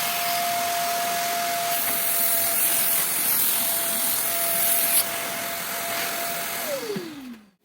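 A vacuum cleaner runs continuously with a steady whine and rushing hiss, plus rubbing noise, then powers down as its tone drops away at the end.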